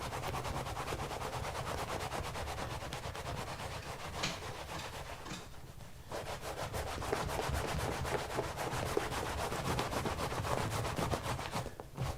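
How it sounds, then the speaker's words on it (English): Welts on a garment's front panels are rubbed down by hand, making a continuous scratchy friction sound that rasps on steadily for about twelve seconds, up close and without talk. "Make sure all these welts get properly rubbed down."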